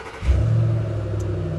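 A 2010 Ford Mustang engine cranks and fires, catching with a short rev then settling into a low, steady rumbling idle, close and alone with no talking.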